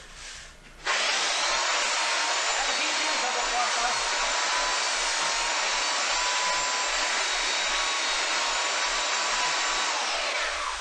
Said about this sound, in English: we're going to take a belt sander with a coarse belt on it, and we're going to use the belt, the sander, I should say, to kind of rough up